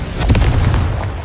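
A Confringo fire spell bursts in Hogwarts Legacy as a single loud, close, booming explosion with a deep rumbling body that fades over about a second. No voice is heard.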